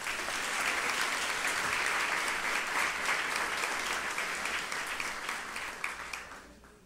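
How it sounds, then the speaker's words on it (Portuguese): A church congregation applauding during a Portuguese-language sermon, a full, sustained burst of clapping that holds steady, then thins and fades out near the end. "Vamos aplaudir Ele um pouquinho"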